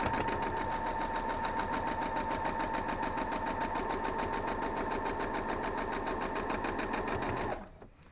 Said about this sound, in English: now I just have the top and the bottom rows to sew together